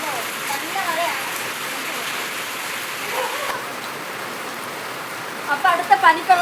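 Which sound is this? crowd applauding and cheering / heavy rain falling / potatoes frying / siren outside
heavy rain falling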